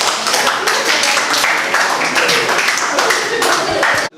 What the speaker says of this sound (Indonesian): terima kasih untuk kelompok 6 dari tepuk tangan.